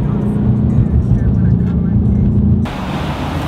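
A stanced, slammed Subaru STI on Work wheels drives along with a steady low engine drone and road rumble from inside the cabin, the tone shifting partway through as the surrounding noise changes.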